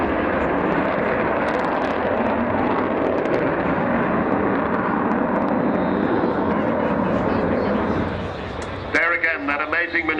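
An Avro Vulcan bomber at an airshow fills the air with a loud, broad jet roar that holds steady for several seconds before easing off, with a commentator speaking over it near the end.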